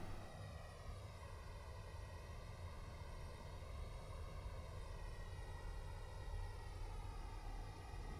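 Ship engines in the Space Engineers video game give off a steady, blowtorch-like roar with a smooth, unbroken drone that holds at an even level throughout.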